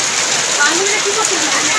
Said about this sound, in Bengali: বাইরে ধুম বৃষ্টি লাগিয়েছে